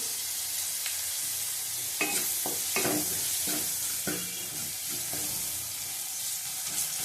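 Green chilies frying in a pan of oil for a flat bean (shim) dish, giving a steady close sizzle with several sharp pops and spatula scrapes scattered throughout; no one speaks.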